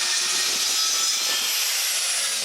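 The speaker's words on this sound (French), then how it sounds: "je fais une coupe avec la scie sur rail." A track saw cutting wood whines loudly and continuously at a steady high pitch for a couple of seconds, with no pauses or voices.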